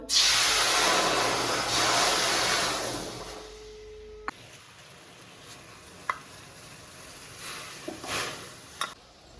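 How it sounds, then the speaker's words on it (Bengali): Water poured into a hot wok while preparing a puffed-rice snack, giving a loud, broad sizzling hiss for about four seconds that cuts off abruptly, followed by quieter stirring clinks and faint sputters. "কড়াইয়ের মধ্যে দিয়ে দিচ্ছি জল"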